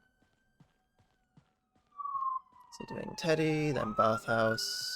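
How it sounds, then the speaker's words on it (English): An ambulance siren wails in from the distance and swells louder, its pitch rising and falling, while people talk over it. "Apologise for the ambulance noise."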